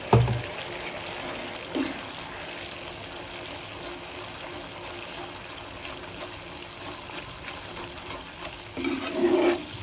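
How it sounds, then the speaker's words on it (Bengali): Water is poured into a pan while cooking doi begun curry, a close splash at the start followed by a light trickling, with a brief second gurgle near the end and no talk. "এইবারে আর একটু জল দিয়ে দিলাম।"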